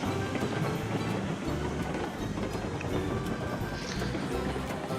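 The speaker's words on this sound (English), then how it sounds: "There it is, the train." Locomotive rolling in the railroad simulation game Railroads Online, a steady, dense rumble with rhythmic clatter of wheels on track running unbroken throughout, fairly loud and close.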